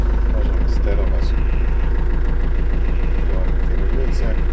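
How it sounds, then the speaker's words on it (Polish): A vehicle engine, started by a GOtrack remote control system, idles with a steady, rapid low throb that runs evenly and close throughout. "Jeżeli uzyskamy połączenie, możemy włączyć silnik."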